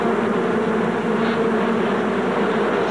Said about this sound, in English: sends the bees rushing around the combs, looking for open cells of honey